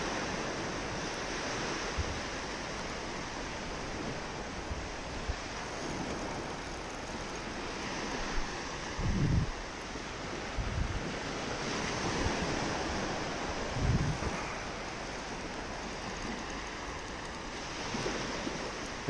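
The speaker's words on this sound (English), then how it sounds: "Just let the waves bring him in." Ocean waves surge and break on a beach during surf fishing for redfish, a continuous broad wash of surf with wind buffeting the microphone and a few heavier crashes; no talking.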